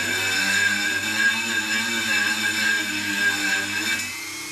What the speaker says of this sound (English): So I'm using a Dremel and just basically clean round each